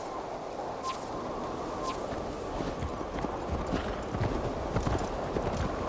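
Horse hooves clip-clop at a steady walking pace in Assassin's Creed Valhalla, a moderate, even stream of hoofbeats over a dense ambient game backdrop, with no speech.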